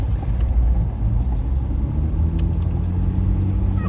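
A Mitsubishi Pajero driving up a foggy mountain road in Hajeef, Oman: a steady, close, low engine and road rumble from inside the vehicle, with no change in pace.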